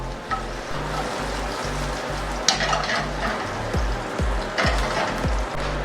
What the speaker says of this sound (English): adding the ginger and letting it cook for about 30 seconds